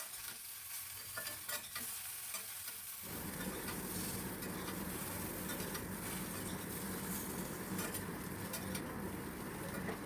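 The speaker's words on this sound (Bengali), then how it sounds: "হাফ চামচের মতো হলুদ গুঁড়ো আর হাফ চামচ কাশ্মীরি রেড চিলি পাউডার দিয়ে আবারও খুব ভালো করে নাড়াবো" A spoon stirring turmeric and Kashmiri chili powder through frying vegetables in a hot oiled pan. A soft scrape comes first, then a steady close sizzle with scraping strokes. There is no talk.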